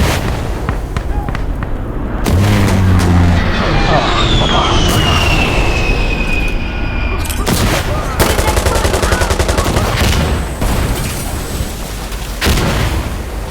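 Heavy gunfire in Insurgency Sandstorm while defending a street: loud bursts of automatic and single shots, with explosions and a passing aircraft roar, under excited talk.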